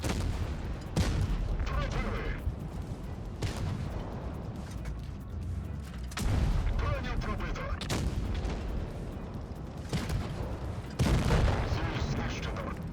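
Heavy tank cannon blasts in World of Tanks Blitz boom repeatedly, roughly every few seconds, each a loud broadband burst over a constant rumbling engine and battle din.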